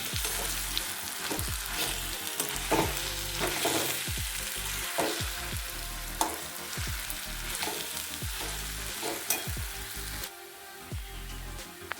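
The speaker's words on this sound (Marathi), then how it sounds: "आता मी याच्यात बटाटे मॅश करते." Boiled potatoes being mashed in a pan for crisp bread roll filling, a steady run of soft squishy thuds and scrapes repeating close by, with no talking.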